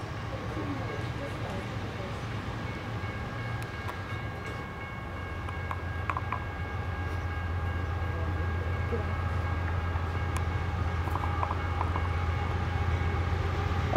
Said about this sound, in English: Oh, it's an intermodal.